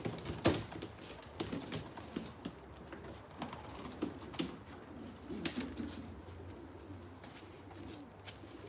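A breeding racing pigeon from an Olympic-line loft coos in short, soft repeated calls, fairly close, over faint rustling and light tapping, with no talking.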